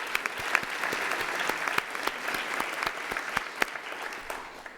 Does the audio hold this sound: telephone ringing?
no